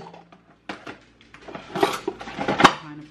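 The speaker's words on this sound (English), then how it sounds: "So now I'm just trying to put some dishes on." Dishes clink and clatter in a home kitchen as they are set down and handled, with irregular knocks of plates and cutlery growing busier and louder toward the end, close by and without talk.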